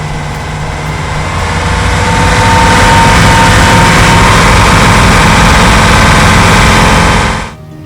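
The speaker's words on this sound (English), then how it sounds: "Here is an engine, very clean." A 2000 Bayliner Capri 2352 boat engine idles steadily and fairly loud, a continuous low rumble with no talk, until the sound drops away abruptly near the end.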